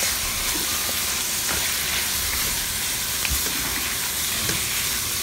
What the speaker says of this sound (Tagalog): Tapos dito, ilalagay na natin yung karne. Haluin natin.